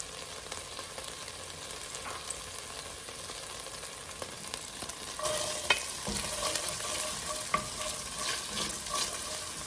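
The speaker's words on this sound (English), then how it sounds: "I'm going to add some more olive oil, about 2 tablespoons more. And then I'm going to start sauteing the onions." Onions sauté in olive oil in a pan with a steady, moderate sizzle and occasional stirring scrapes, with no talking over it.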